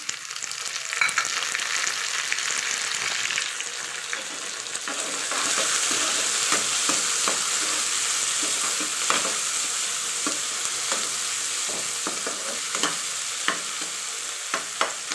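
Green chillies and chopped tomato cook in a masala for an aloo shimla mirch sabzi, giving a strong continuous sizzle with repeated scraping stirs of a spatula against the pan; no speech.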